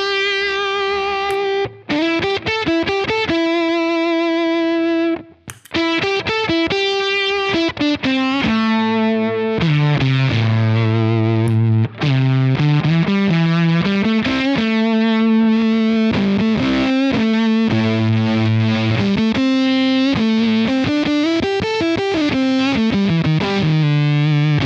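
An electric guitar runs through a Tesla octave effect pedal, playing sustained distorted notes and riffs with a thick, doubled low octave, loud and continuous with brief gaps between phrases.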